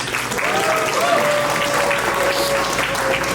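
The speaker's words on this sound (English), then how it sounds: "one round of applause again for all the speeches" Wedding guests applauding after the speeches: sustained, dense clapping from a full room, loud and steady throughout, with a voice faintly audible beneath it.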